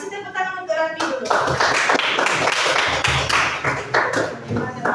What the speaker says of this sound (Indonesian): Kasih tepuk tangan untuk Rafi dulu.